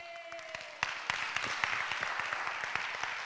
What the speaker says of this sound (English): Give Vicki a round of applause